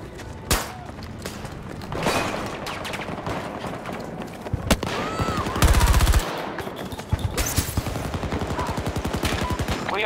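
Battlefield 2042 machine gun fire crackles in repeated rapid bursts throughout, loud and close, with heavier rattling volleys in the second half amid battlefield clatter.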